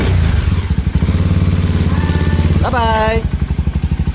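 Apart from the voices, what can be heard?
small motorcycle riding off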